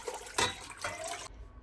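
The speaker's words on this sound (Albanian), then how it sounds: "Shtojna 3 litra me ujë." Three litres of water pour into a cooking pot in a short gushing, splashing rush that cuts off abruptly, close and fairly quiet.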